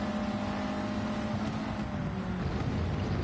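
A racing car engine in Gran Turismo 7 drones steadily for a few seconds, a low, continuous rumble with a sustained whine above it and no voices.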